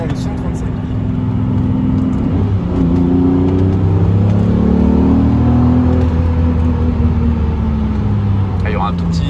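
A powerful, warmed-up 6.2-litre naturally aspirated V12 car engine hums loudly, rising in pitch as it revs and accelerates, with people talking over the steady drone.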